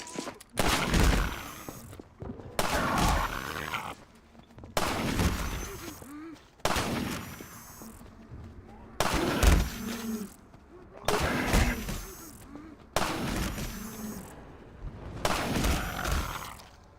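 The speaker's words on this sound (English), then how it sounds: "Let me shoot out the latch. I might be a little rusty with this rifle." Rifle shots in the Half-Life 2 Episode 1 video game ring out as eight loud, evenly spaced blasts over about seventeen seconds, each with a sharp crack and a decaying tail.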